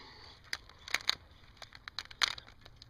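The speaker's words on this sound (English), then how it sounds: "I love me a campfire." A small campfire crackles and pops with sharp, irregular snaps. The fire is fairly close but quiet, with no talking.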